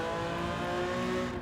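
A race car engine from the Gran Turismo video game drones loud and steady with a sustained high-revving tone under throttle, filling the whole clip continuously without any talk.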